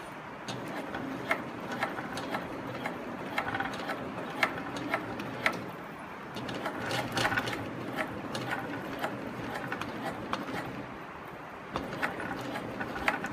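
A Sewpro 18365 high post sewing machine stitching slowly with stiff, wire-like thread gives a steady mechanical whir with regular close ticking clicks throughout, no voices.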